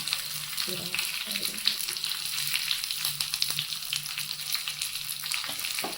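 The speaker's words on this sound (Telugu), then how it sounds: "చూసారా అన్నీ కలిసి ఎలా వేగిపోతున్నాయో" Spices, curry leaves and asafoetida fry in oil for a ridge gourd chutney, giving a soft, continuous crackling sizzle with occasional pops.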